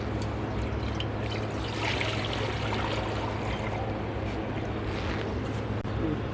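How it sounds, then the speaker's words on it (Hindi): Water pours steadily into a wok on a lit stove for a tamarind and plum sherbet, a continuous close trickle and splash over a low hum of the burner. "कढ़ाई में 1 लीटर पानी डालेंगे।"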